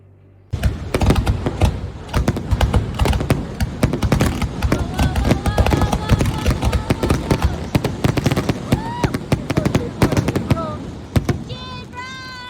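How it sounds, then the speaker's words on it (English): Pyrotechnic fireworks burst in a dense, continuous run of sharp cracks and pops, with a few rising whistles near the end, loud and close with no talk. "let's watch this video of pyrotechnic fireworks on the next slide"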